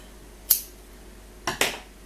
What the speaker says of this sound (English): we're going to just cut our yarn